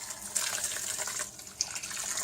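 Boiled water pours steadily onto couscous in a bowl, a close and continuous splashing trickle with one brief louder gush partway through.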